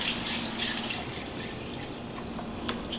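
Water poured into a pot of cooking black chicken for maqluba, a close, steady splashing trickle with a few small drips throughout, no talking.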